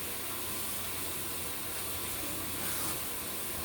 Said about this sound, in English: just give it a hard rinse right now